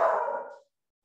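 A single short dog bark or yelp, fairly close and clear, quickly cut off into silence; no voices with it.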